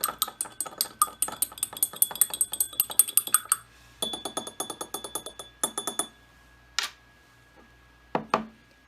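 Bleach and blue colored water being stirred in a small container: quick, rhythmic clinks and taps of a utensil against the sides, fairly close, with a brief pause and a few final isolated knocks.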